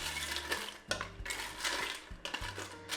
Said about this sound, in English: Now we can put in our pasta. This is 8 ounces of bow tie pasta